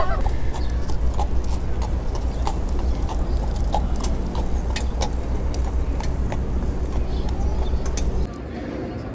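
Carriage horses' hooves clip-clop steadily on a busy New York street, close and rhythmic amid traffic hum and city bustle, with voices talking in the background.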